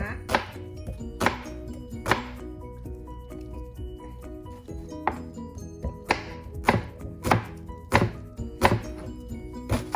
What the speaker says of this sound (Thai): ตัวนี้ก่อนนะคะเราหั่นหอมหัวใหญ่กันก่อนนะคะ ทำให้เป็นแบบชิ้นเล็กๆนะ